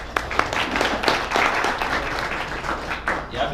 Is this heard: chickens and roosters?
no